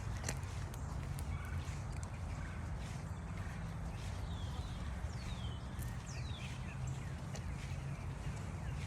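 Birds call repeatedly at a distance, with short chirps and sweeping whistles over a constant low background hum.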